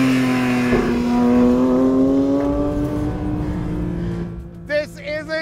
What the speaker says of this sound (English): it's the way the engine revs, the way it sounds